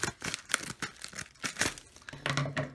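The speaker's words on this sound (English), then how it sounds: "I think it might be easier if I just open this with scissors." Close-up crinkling and rustling of plastic packaging, with short snipping and tearing bursts in an uneven rhythm.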